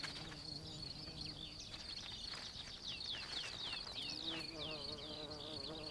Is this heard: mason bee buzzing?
yes